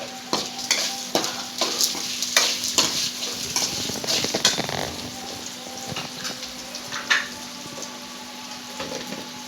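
Okra fries in oil in a pan, a constant sizzle broken by repeated scraping and clinking strokes of a stirring utensil, close and moderately loud.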